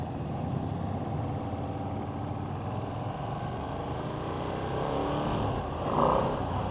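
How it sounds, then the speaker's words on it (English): A Ducati Streetfighter V4 motorcycle being ridden, its engine a steady, dense drone under wind rush, swelling slightly louder near the end. "Now on a Streetfighter V4."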